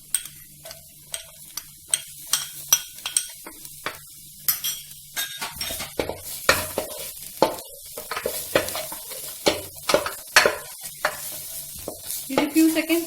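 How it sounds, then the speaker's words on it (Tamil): Chillies fry in hot oil in a pan for hot and sour chicken soup. A close, steady sizzle runs under sharp, repeated clinks and scrapes of stirring that grow busier toward the end, with no talking. "இது few seconds வந்து ஃப்ரை ஆகிட்டே இருக்கட்டும்."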